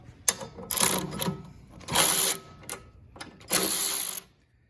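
Ratchet wrench taking 10 mm bolts off the carburetor of an Ariens Sno-Tek snow blower: four close bursts of rapid metallic clicking, each lasting about half a second, separated by short pauses.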